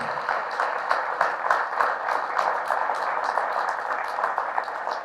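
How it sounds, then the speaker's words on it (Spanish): A church congregation applauding during a service, a full, sustained round of clapping from many people, with individual claps standing out in a loosely rhythmic texture. "Fuertes aplausos al Rey de Reyes, al Señor de Señores,"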